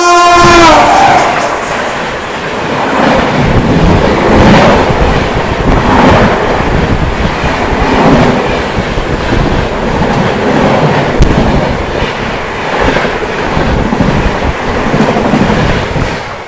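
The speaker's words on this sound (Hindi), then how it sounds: "अभी जो ट्रेन क्रॉस हुई थी वो थी अपनी अनन्या एक्सप्रेस" The Ananya Express, running between Udaipur and Kolkata, crosses past loudly, opening with a horn blast and then a long, heavy rumble of wheels and carriages rolling by close at hand.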